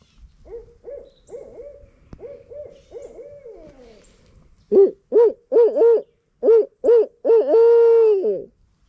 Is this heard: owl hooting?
yes